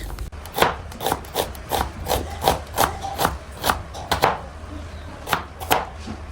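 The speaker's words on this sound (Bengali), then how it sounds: "এখন আমি কেটে নেব পেঁয়াজ" A knife chops onions steadily on a wooden board, about two crisp strikes per second, close and clear with no talking.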